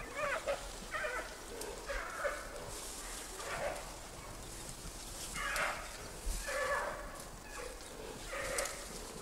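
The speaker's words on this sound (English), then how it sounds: "From the growls, it's obvious the males will have no energy left for fighting, as Lulu does with the females in Wulong." Several giant pandas growl and bark in short, hoarse bursts, spaced a few seconds apart, fairly faint against a quiet outdoor background.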